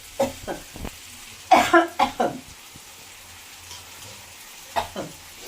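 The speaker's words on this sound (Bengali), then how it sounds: "red bell paper green capsicum কাঁচা লঙ্কা কুচি নেড়ে" Red bell pepper, green capsicum and chopped green chilli being stirred in a pan, with a few short scraping and sizzling bursts spaced apart and quiet gaps between them.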